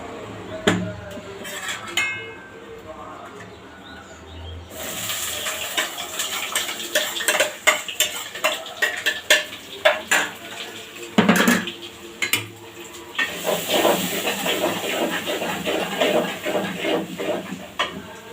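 A cooking pot set on a stove with oil added, ahead of a spicy country chicken curry with potatoes: sharp metallic clanks and scraping knocks come in irregular bursts, followed by a soft hiss and rustle, close by with no talk.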